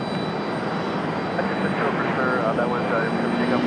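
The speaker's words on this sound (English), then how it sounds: "As you guys can see, Air France, that A350-900 making its way out, headed back to Charles de Gaulle." An Air France Airbus A350-900 jet taking off from Raleigh-Durham International Airport, a loud continuous engine roar filling the whole stretch.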